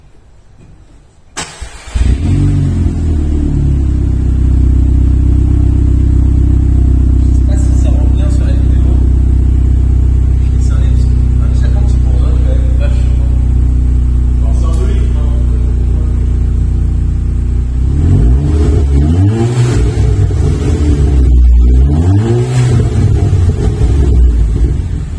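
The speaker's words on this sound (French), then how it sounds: "Alors c'est un échappement qui vibre." A car engine starts up and settles into a loud, deep, vibrating exhaust rumble that swells in rhythmic surges as it's revved, close by.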